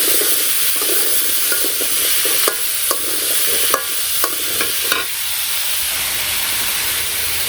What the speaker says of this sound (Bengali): ভালো করে নাড়াচাড়া দিয়ে সবজি আর মশলা মিশিয়ে দিই